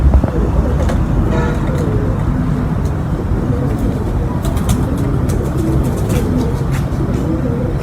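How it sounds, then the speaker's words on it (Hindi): Kasuri pigeons in Rawalpindi, including an old bird kept since 1990, coo over steady outdoor noise with passing traffic and occasional other birds, the calls soft and repeated throughout. "तो ये एक पुराना कबूतर है मेरा"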